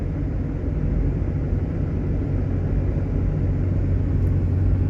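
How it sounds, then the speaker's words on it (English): A 2012 Ford F pickup truck's V8 engine pulls steadily up a hill on cruise control, a continuous low, loud rumble from inside the cab with no talking. "I've never had a V8 pull like this truck does"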